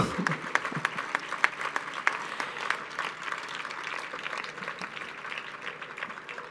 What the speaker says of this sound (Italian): io pregherei che gli tributiamo un applauso di gratitudine